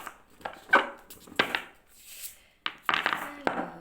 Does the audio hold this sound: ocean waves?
no